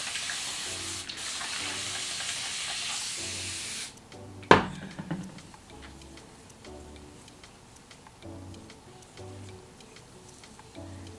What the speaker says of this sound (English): I want to add water because I want to see if it applies better